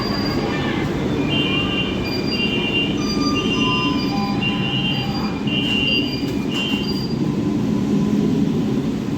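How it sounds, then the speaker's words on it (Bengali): A Kolkata Purple Line metro train arrives at a station with a continuous loud rumble, high wheel squeals sliding in and out along the rails. "এই ট্রেনটাই এলো জোকা থেকে, এটাই আবার রিটার্ন যাবে।"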